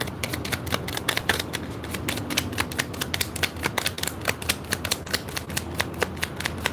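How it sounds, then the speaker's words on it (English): Cards shuffled repeatedly up close, a rapid riffling crackle broken into quick bursts and snaps with short gaps between them. "Let me go ahead and shuffle these."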